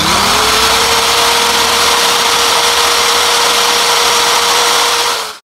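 DongCheng DZJ02-13 electric impact drill running with no load, a loud, steady motor whine with a constant pitch, heard close and alone before it cuts off sharply at the end.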